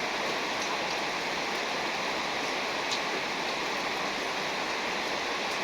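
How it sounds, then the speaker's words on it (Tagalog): Heavy rain pours down steadily in a dense, even hiss that stays loud and unbroken from start to finish, with no voices present. "Bigla bumuhos ang ulan."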